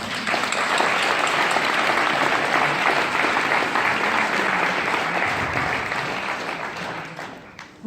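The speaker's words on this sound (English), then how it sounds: "Please give us a round of applause." Sustained audience applause fills a room at a Jericho Road twentieth-anniversary gathering, a dense, steady wash of clapping that stays loud throughout and eases slightly near the end.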